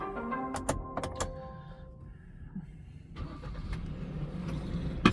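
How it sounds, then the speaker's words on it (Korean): A car engine starts up partway through, with a rising mechanical rumble that settles into a steady idle over background noise and a few brief knocks. "잠시 시동 좀 걸겠습니다."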